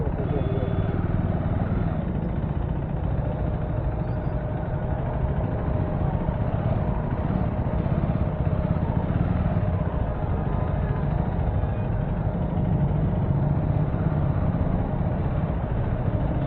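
A 2026 Aprilia RS457 motorcycle engine idles with a steady, continuous rumble throughout, while people talk over it nearby.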